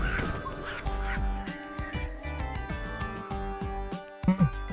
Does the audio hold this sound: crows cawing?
yes